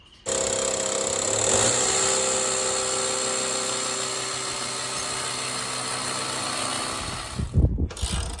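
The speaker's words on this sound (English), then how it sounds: "There it is, big old bad boy hammer drill" A hammer drill runs continuously with a loud, steady mechanical whine and rattle, then stops abruptly, followed by a few clunks.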